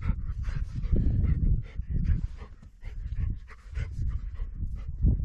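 A dog on desert sand in the Xinjiang gobi pants in fast, close breaths, broken by a few soft whimpers.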